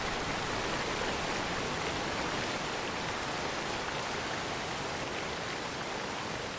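Steady, loud hiss of rushing water from a waterfall in Skyrim with the Nolvus mod pack, an unbroken wash of white noise with no voices.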